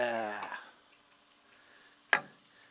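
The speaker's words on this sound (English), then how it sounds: "listen for the sizzle. Here comes the sizzle." Meat hitting a hot grill gives a single sharp sizzle burst, loud and close, that fades quickly into a faint hiss after a brief moment of fading talk at the start.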